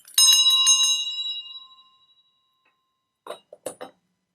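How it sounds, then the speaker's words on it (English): A single bell is struck once to open a spiritual channeling session, ringing bright and clear and fading over about two seconds, followed after a pause by a few faint clicks. "I will ring the bell first"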